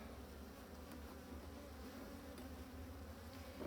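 Honeybee hive in winter, a drone-laying colony opened for inspection, giving a steady faint buzzing hum that holds without a break throughout.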